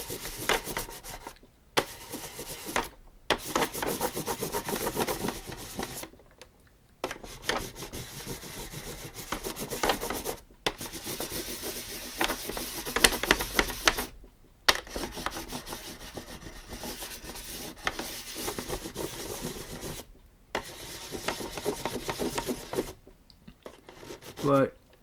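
A crayon is rubbed back and forth over a Tomy art set plate, making close, scratchy rasping strokes in repeated bursts with short pauses over roughly twenty-five seconds, while someone talks at times.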